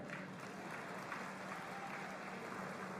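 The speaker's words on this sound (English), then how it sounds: "Big round of applause for that man." A live event audience applauds after an announcement introduction, giving steady, even clapping that fills the whole stretch at a fairly distant, low level with no one speaking over it.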